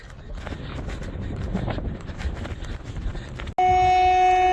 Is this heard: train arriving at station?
yes